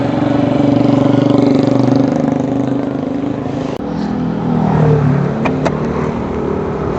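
A car engine drones and revs as the vehicle pulls away, loud and close, a steady low hum with a brief knock midway and a few sharp clicks near the end.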